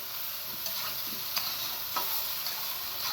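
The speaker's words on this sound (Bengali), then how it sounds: "শসার টমেটো দেওয়ার পর আমি এটাকে ভালো করে একটু নেড়া দিয়ে নেব" Cucumber and tomato curry with hilsa fish head and tail being stirred in a frying pan, a soft even sizzle with a few faint scrapes of the spoon and no speech.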